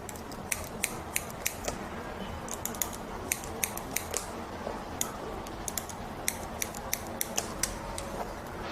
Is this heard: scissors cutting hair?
yes